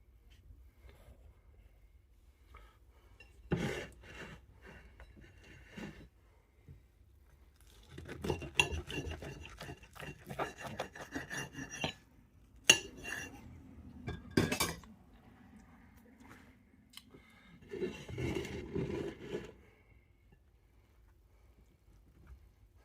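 A knife saws through a thick slice of toasted white bloomer bread in several rough, crunchy bursts of scraping and clinking, with quiet pauses between strokes.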